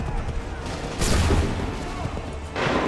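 Musket volleys in a battle at Lexington and Concord in Assassin's Creed III Remastered: broad crackling bursts of gunfire with a booming swell around the middle, dense and continuous, with shouted commands faintly mixed in.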